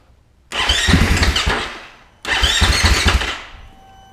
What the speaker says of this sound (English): we're gonna screw this back in far enough to get the bike started